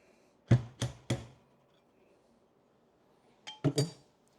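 Coffee beans shaken in a small container, heard as two bursts of three sharp rattling clinks each, close and crisp, with quiet pauses between them and no talk.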